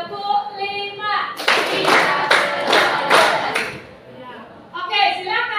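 A group claps together in rhythm, a series of four or five loud, evenly spaced bursts of hand claps, with voices talking just before and after the clapping.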